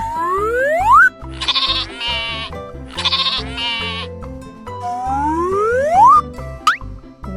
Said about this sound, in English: Sheep says baa,